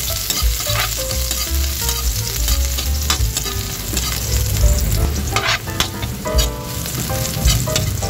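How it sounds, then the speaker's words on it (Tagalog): Garlic hits hot cooking oil for a Filipino sautéed bitter melon dish, giving a loud, dense, continuous sizzle with crackling pops and occasional stirring scrapes close by. "Mainit na guys yung mantika, kaya ilalagay na natin itong ating bawang."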